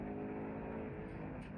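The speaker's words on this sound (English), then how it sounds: "You really have to rev this engine to get the most out of it." A 5000cc car engine revs hard during a launch attempt, held on the handbrake, producing a sustained, fairly quiet roaring drone with no talk over it.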